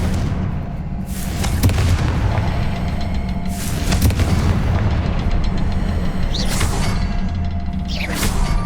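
Confringo spell blasts in the Hogwarts Legacy video game go off as several heavy booms with whooshing bursts, repeating every few seconds over a rumbling background.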